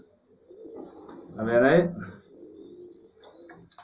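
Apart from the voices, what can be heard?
pigeons cooing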